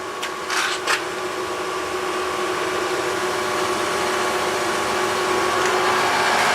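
A Tjernlund HS1 sidewall power venter runs with a Slant/Fin Galaxy GXHA 200 EDPZ gas boiler. A couple of short clicks open into a steady whirring hum that grows slowly louder and holds without any voices.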